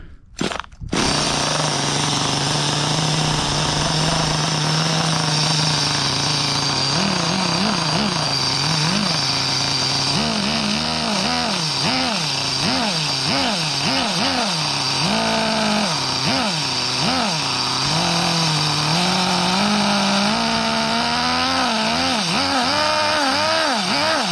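A cheap nitro RC car engine runs steadily outdoors in a garden, a loud continuous high-pitched buzz that starts abruptly and then rises and falls in repeated revving swells throughout.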